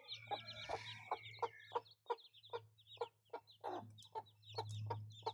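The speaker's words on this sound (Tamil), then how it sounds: "10 முட்டையில் 7 கோழி குஞ்சு வந்திருக்குது, எல்லாமே நல்லா இருக்குது, சூப்பராக பார்த்துக்குது இந்த கோழி." A hen clucks in a repeated, rhythmic series of short calls close by, looking after a brood of newly hatched chicks, with a low steady hum beneath.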